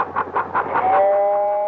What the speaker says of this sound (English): Lionel, the originator of the electric model train, makers of the most realistic, scale-detailed model train equipment